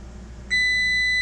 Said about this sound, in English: the timer's going back off again